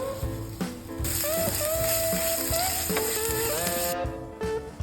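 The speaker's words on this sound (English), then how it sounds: "in the same pan, we heat 2 tablespoons of butter again. Add 1 teaspoon of garlic paste and 4 tablespoons of brown sugar." Butter, garlic paste and brown sugar sizzle steadily in a pan, a loud continuous frying hiss with light stirring scrapes and no talk.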